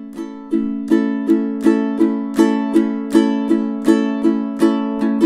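Ukulele strummed in time through two measures of an etude, about a dozen crisp, evenly spaced strums on a sustained chord, each attack sharp and ringing, close and fairly loud with no talking.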